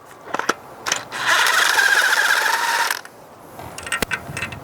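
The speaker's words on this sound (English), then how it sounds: "I'm going to use my electric impact to pull them all out" An electric impact wrench backs spark plugs out of a 2006-2015 Honda Civic 1.8L engine: a loud, close whirring burst of about two seconds, with sharp clicks and ratchety taps before and after.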